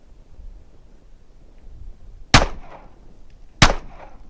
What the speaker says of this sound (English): Let me shoot it and we'll see if we can pick it up